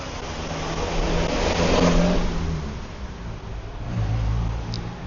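A car engine revs and accelerates on a town street in Phuket, Thailand, a loud, steady mid-pitched roar that swells and eases over several seconds with no talking.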